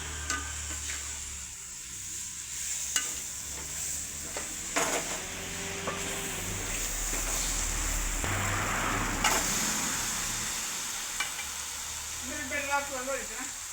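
Chopped tomatoes sizzle and fry in a pan for a Kerala chicken curry, with a steady crackling hiss and repeated stirring scrapes throughout, close and continuous.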